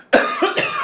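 A single sharp cough from a woman, close and loud, followed by a brief throat-catching tail.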